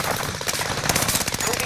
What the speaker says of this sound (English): We shot him through the windows.